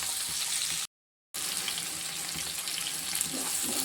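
Onions sauté in a pan for a green peas kootu, giving a steady, close hiss of sizzling oil that is briefly cut by a short gap of silence.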